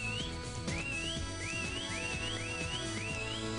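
A repeated rising-falling whistle in Sonic Adventure DX sounds six times over a busy, loud game music backdrop, each phrase short and bright.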